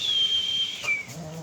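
A thin, high imitated whistle holds a long steady note, breaks off, then returns briefly and fades, alone without talk.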